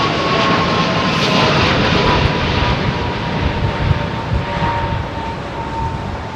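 A jet airliner climbing away after a derated departure from Heathrow, a loud, close, continuous engine roar with a steady whining tone running through it, slowly easing toward the end.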